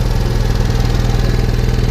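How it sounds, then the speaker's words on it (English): A 5500 generator on a 2007 Fleetwood Southwind 32VS motorhome runs close by with a steady, even engine drone and a low rhythmic pulse, with no talk over it. "Extremely nice, quiet generator."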